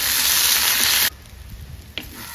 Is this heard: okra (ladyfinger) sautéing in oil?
yes